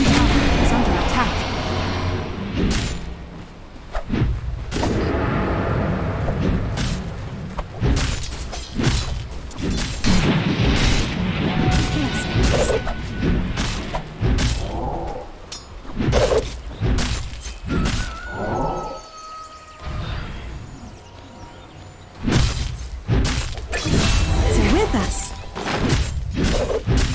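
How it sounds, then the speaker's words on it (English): A Dota 2 tower comes under attack amid a fight, with repeated heavy thuds, booms and shattering impacts in irregular bursts, loud and close over a busy battle din. "Radiant's bottom tower is under attack."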